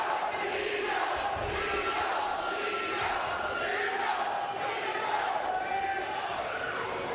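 Boxing crowd at a Manuel Avila vs Sergio Frias fight chanting a fighter's name, a dense, steady roar of many voices rising and falling in waves throughout.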